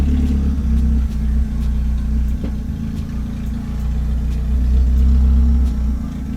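A turbocharged Scion xB idles steadily while warming up, its deep, even engine rumble loud and close with slight swells in level and no talk over it.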